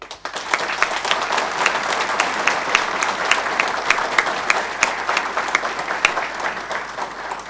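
Debate audience in Jamaica applauding as Portia Simpson Miller of the People's National Party is announced at a national political leadership debate, a full, steady round of clapping with distinct individual claps throughout.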